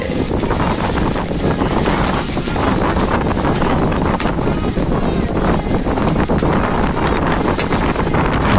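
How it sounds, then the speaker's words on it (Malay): Strong wind on Fansipan summit, Vietnam's highest peak, roars and buffets the microphone loudly and without pause, with no voices over it. "Dengar kan, angin dia begitu kuat."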